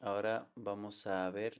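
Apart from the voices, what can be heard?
No distinct noise like a dog, phone or traffic.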